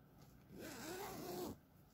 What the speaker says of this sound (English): See what kind of zip, how the zipper works.